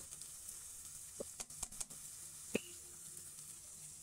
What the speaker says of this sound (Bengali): এখন এর মধ্যে তেলের মধ্যে পোড়া চালগুলো দিয়ে দেবো।